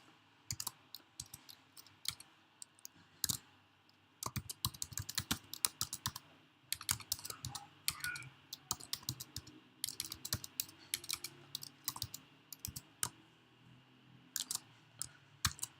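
Clicky keystrokes on a computer keyboard as a basic Python Hello World command is entered, with irregular bursts of close, crisp taps and short pauses throughout.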